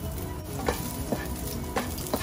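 Garlic sautéing in a hot wok gives a steady, quiet sizzle broken by a few short stirring scrapes, with no voices.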